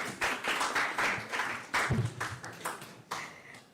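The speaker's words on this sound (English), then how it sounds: "A round of applause for our panel." A small audience at a biodiversity summit applauds a panel, scattered uneven claps in loose bursts rather than a full ovation, fairly quiet and close.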